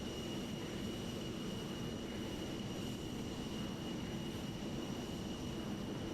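An Avro Vulcan jet in the MSFS 2020 flight simulator, a steady low engine roar with a constant whine layered above it, droning evenly and alone throughout.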